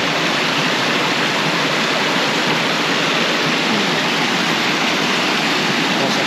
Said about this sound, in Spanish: una cascada más para la colección